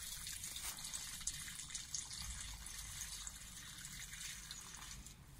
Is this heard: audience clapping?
no